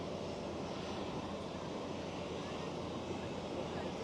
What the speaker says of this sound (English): Croatia Airlines is taxiing towards us as well currently.